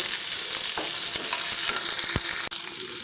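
Small onions and curry leaves sizzle steadily in hot oil with tempered mustard seeds for a lentil curry, a continuous close frying hiss with faint crackles and a soft stir knock near the end.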